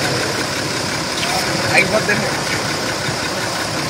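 An old lorry's diesel engine running with blow-by from worn compression, a rough, steady mid-pitched drone with knocking, while someone talks over it close by.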